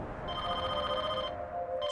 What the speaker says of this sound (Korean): 서울경찰청 프로파일링 팀으로 전화가 한 통 걸려.